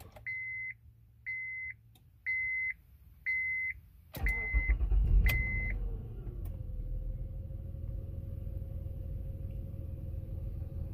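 A 2005 Acura MDX Touring AWD starts up after several evenly spaced chime beeps: the starter cranks loudly, then the engine catches and settles into a steady, close idle rumble.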